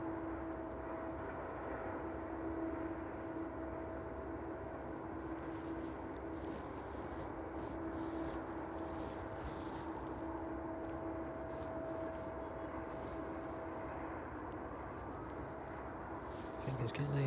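An arriving aircraft approaches East Midlands Airport on a cold evening, heard as a faint, distant, steady engine drone with a faint hum under a soft, windy background.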